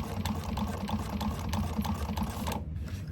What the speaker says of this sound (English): So I'm going to back stitch at the beginning and the end.